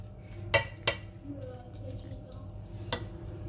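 A utensil scrapes and knocks against a cooking pot of onions and carrots, giving three sharp metallic clinks over a low kitchen background.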